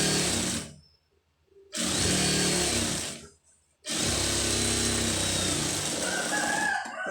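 Sewing machine stitching the lining of a blouse, running in two loud continuous bursts separated by short pauses, with a brief third run starting near the end.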